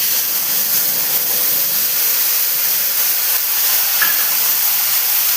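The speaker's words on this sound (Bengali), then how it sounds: "তো এখানে আমি মশলাটা দিয়ে নেব।" Loud, continuous hissing sizzle of spices hitting hot oil in a wok, steady throughout with no talking.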